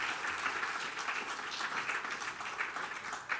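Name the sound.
audience applause for Andrew Whiting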